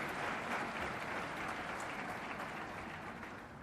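Steady, dense applause from a conference audience for a speaker, sustained and fading slightly toward the end.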